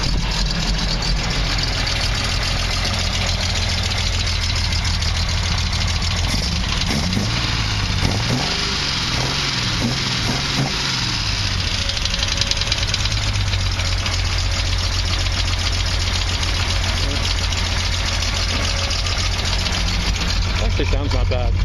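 A 1968 Triumph TR250 engine idles steadily with a slightly uneven, occasionally missing beat, a low continuous rumble running throughout at close range, with a voice briefly speaking over it.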